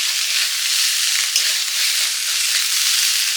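Drumstick stems frying in mustard oil in a pan, a continuous close crackling sizzle that stays even in loudness, with a faint stirring scrape near the middle and no speech.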